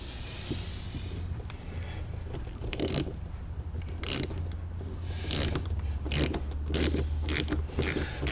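Saker ratchet from a 42-piece set driving a Phillips sheet metal screw, with bursts of rapid pawl clicking at irregular intervals over a low hum.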